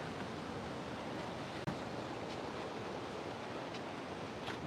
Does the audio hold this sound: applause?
no